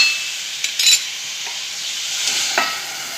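Masala cauliflower roasts in a pan with a steady, bright sizzle, broken by a few scraping stirs, close and without any talk.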